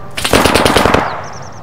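Automatic gunfire in the video game ArmA 3 with the JSRS sound mod on a winter Chernarus map, a loud close burst of about ten rapid shots over roughly a second, then a short ringing echo.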